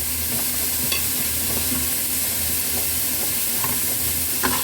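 Carrots are stirred in a hot pan, a steady sizzle broken by occasional utensil scrapes and taps against the pan, with a low hum beneath.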